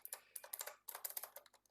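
Fingers type on a computer keyboard close by, in quick bursts of sharp clicks with a brief pause midway. No one speaks.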